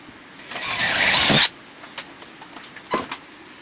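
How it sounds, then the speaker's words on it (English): A loud, steady high-pitched whir of a drill bit biting into a metal jon boat hull for about a second, then stopping, followed by a few faint clicks and knocks. "I think I will start with a drill bit before I dig in."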